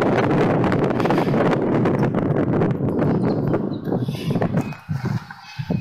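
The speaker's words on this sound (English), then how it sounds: "I know it's a bit of a windy day" Wind buffeting the microphone outdoors at a churchyard on a windy day, loud continuous rushing and gusting that dominates the scene, then easing into uneven gusts toward the end.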